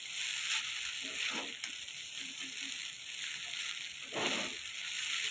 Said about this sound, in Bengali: এইভাবে উপর নিচে উপর নিচে করে খুন্তিয়ে করে আমি মিশিয়ে নেবো চাউমিনটা